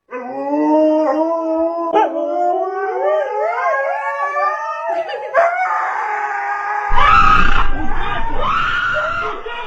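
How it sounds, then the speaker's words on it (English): Dogs howl in long wavering, rising and falling tones, loud and close, with several animals overlapping, and a rougher barking, yelping burst breaks in near the end. "Dogs barked loudly from every direction, adding to the chaos."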